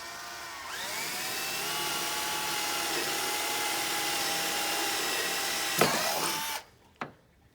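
A power drill whirs steadily for several seconds as it bores a hole while a catch can is fitted to a 6.5L diesel vehicle, then winds down and stops, followed by a couple of sharp knocks.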